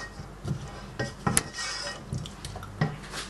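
Potatoes are stirred in a cooking pot, with a spoon clinking and knocking against the metal in irregular taps and scrapes over a soft background of bubbling liquid.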